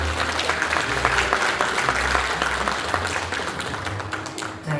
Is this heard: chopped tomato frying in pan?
no